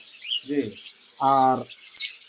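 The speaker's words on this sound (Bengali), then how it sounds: "সুন্দর সুন্দর লাভ পাখি আছে" Lovebirds in a bird shop in Mirpur, Bangladesh, give short bright chirps and harmonic squawks in quick bursts, fairly close, with other cage birds twittering around them.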